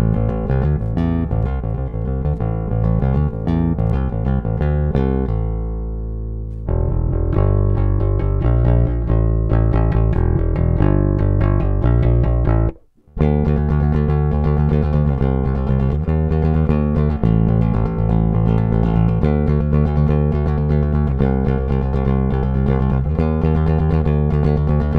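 A bass guitar plays a clean tone with volume and tone knobs at maximum, a continuous run of loud, full plucked notes and riffs with one brief silent gap midway.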